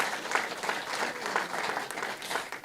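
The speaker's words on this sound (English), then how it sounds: "Give yourselves a big round of applause." An audience claps continuously, a dense, even patter of many hands at moderate loudness with no voices standing out.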